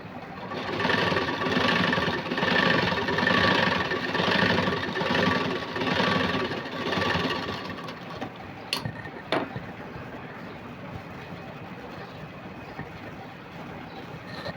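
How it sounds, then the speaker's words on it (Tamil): A sewing machine runs a straight seam on lace for a puff sleeve, with a fast, loud mechanical chatter that pulses steadily for about eight seconds. It then stops, leaving quiet handling sounds and two sharp clicks. "ஒரு தையல் அளவுன்றது வந்து கால் இன்ச் அளவு அப்படியே ஸ்ட்ரைட்டாக தைச்சிருங்க"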